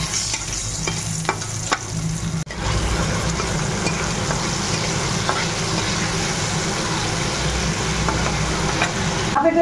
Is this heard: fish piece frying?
yes